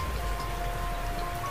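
Steady rain falling at night as a horror story sound effect, a continuous even patter and hiss with no pauses, moderately loud and alone without voices.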